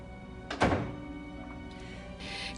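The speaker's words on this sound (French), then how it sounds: "Ferme la porte derrière toi." A door thuds shut indoors in a French-dubbed drama series, a single solid close followed by a quiet latch sound and low room noise.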